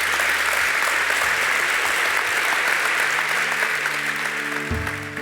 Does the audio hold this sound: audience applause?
yes